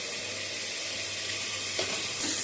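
Onions fry in hot oil with panch phoron in a home kitchen, a steady close sizzle and hiss that carries on evenly, with a brief clatter of movement near the end.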